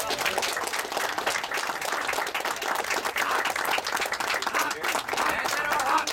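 Crowd applause at a historical military reenactment at Fort George, dense continuous clapping for passing troops, with some voices and shuffling mixed in.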